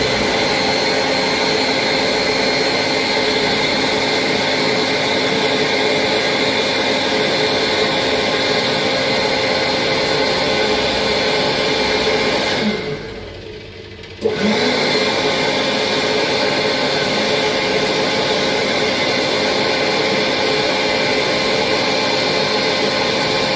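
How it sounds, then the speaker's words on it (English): An overheating public hand dryer with a harsh motor blasts hot air in a loud, steady roar, briefly cutting out and restarting partway through, with no talking. "the air is far too hot and it burns my hands. And secondly, the motor isn't that pleasant either."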